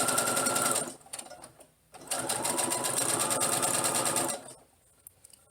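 A sewing machine hems the front facing of a tunic top, its needle motor whirring in a fast steady buzz, close and loud, in two runs separated by a brief pause and then stopping.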